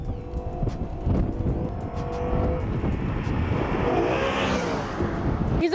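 A car driven at speed around a racetrack on a timed lap, its engine note steady and loud throughout with rising and falling pitch sweeps as it accelerates, plus a brief tire squeal.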